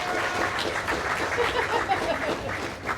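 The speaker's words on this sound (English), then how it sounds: "So I'll give a round of applause for Samira." A business networking lunch crowd applauds a speaker named Samira, with a warm, continuous burst of clapping from many hands that stays steady and fairly loud throughout.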